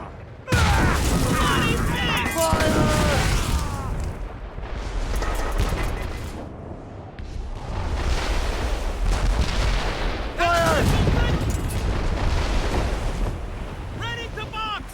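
Heavy naval cannon broadsides boom repeatedly from a sailing warship in a Royal Navy sea battle in Assassin's Creed Rogue, loud blasts amid surf and wind, with shouted commands over the gunfire.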